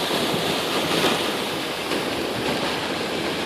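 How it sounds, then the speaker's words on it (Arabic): A large waterfall roars as a loud, steady, continuous rush of water close by, with a wind-like hiss and no speech. "هذا أكبر شلال"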